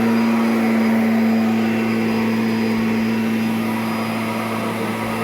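A Kirby G10 Sentria upright vacuum cleaner from 2011 runs steadily at close range, a loud, unbroken motor whine with a strong low hum and airy rush, alone with no voices.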